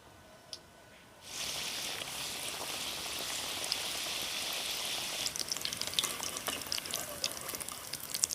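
Roll-style samosas of flour dough with potato filling deep-fry in hot oil, a steady close bubbling hiss that starts abruptly after a short quiet moment and carries on with scattered crackles.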